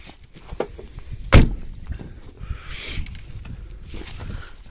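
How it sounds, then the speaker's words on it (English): The car door of a junkyard Buick Park Avenue is tried. One sharp clunk stands out among lighter rattles and scrapes, set against outdoor ambience. "That door won't open."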